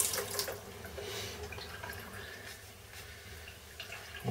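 A kitchen tap runs steadily while a knife is rinsed under the stream after chicken butchering, the water hissing close and continuous with small splashes shifting as the blade moves.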